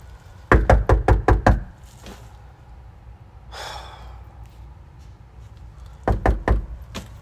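Knuckles rap on a locked house door in two quick bursts of about six firm knocks each, separated by a pause filled with heavy breathing and a sigh.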